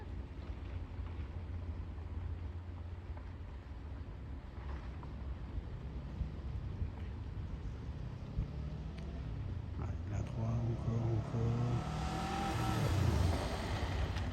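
A car driven during a driving lesson, its engine running steadily under wind and road noise, then revving as it accelerates near the end, growing louder and rising in pitch over a long, gentle pull.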